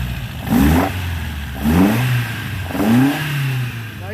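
An old British roadster engine idles roughly, then three sharp throttle blips rise and fall about a second apart, loud and close, with no talk.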